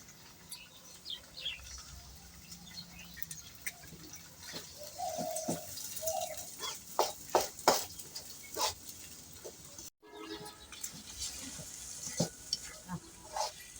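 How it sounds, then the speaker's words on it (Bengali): Eggs frying in a pan with lightly fried onions, a soft sizzle under scattered stirring and scraping clicks, with a brief pause near the end before the frying resumes. "পেঁয়াজটা হালকা করে ভেজে নিয়েছি এখন ডিমটা দিয়ে দেবো"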